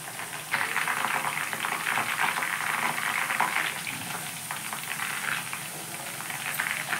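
Water hits hot oil in a pan and sets off a dense, crackling sizzle that keeps bubbling and spitting evenly the whole time, close and fairly loud with no voices.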